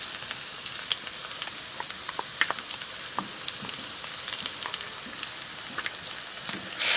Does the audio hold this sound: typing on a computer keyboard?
no